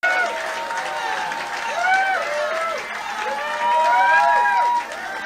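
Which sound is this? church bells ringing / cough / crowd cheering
crowd cheering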